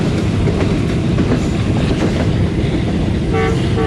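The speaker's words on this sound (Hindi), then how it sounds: "शायद कोई ट्रेन एंटर हो रही थी कुतुबपुर रेलवे स्टेशन पे लूप लाइन पे" A train rumbles and clatters steadily while entering the loop line at Qutubpur railway station, a loud continuous roar of wheels on rails with a faint short horn-like tone near the end.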